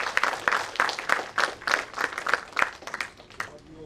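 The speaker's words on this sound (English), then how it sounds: "May I request a big round of applause to all of you and the great partnership." Roundtable audience claps in a loose, moderate rhythm of distinct hand claps, fairly quiet and thin, with a voice speaking briefly near the end.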